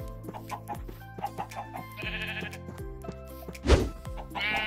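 Sheep bleats and chicken clucks from the Minecraft video game, several short animal calls repeating over a steady background of game music, fairly close and clear, with one louder burst near the end.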